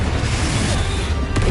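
A Confringo spell blast in the video game Hogwarts Legacy makes a loud, dense roaring boom that fills the whole moment without a break.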